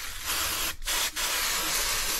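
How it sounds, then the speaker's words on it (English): Spray adhesive hissing from an aerosol can in two or three close, steady bursts separated by brief pauses, heard alone. "So some simple spray adhesive."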